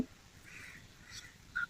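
Crows caw a few times in the distance on an open rooftop at evening, with other birds outdoors; the calls are faint and sparse over quiet ambient air, with no talking.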